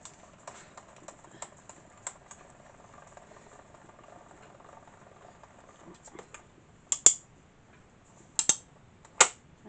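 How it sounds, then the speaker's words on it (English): A small mini die cut machine makes faint ticking clicks while cutting, followed by a few sharper, louder clicks spaced a second or so apart in a quiet room. "I heard it making the clicking sound"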